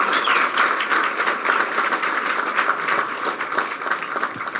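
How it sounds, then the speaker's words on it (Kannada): Audience applause at a Kannada talk show, a dense, continuous wash of many hands clapping at a steady level throughout, with no speech over it. "ಬರಲಿ ಚಪ್ಪಾಳೆ"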